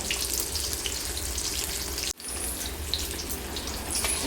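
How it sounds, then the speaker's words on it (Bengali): Pieces of rohu fish frying in oil in a pan, giving a close, continuous crackling sizzle that drops out for a split second midway before carrying on. "আরেক দিকটাও মাছটা ভালোভাবে ভাজা হয়ে গেছে এই দেখো এবার মাছগুলো আমি তুলে নেবো"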